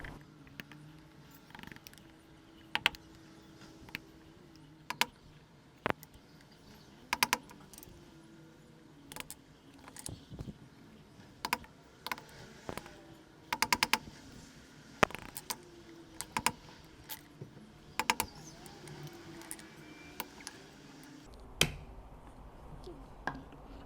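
Sharp chisel chops into wood while carving a wooden ladle, scattered isolated knocks and taps at irregular intervals, fairly quiet and close with no talking.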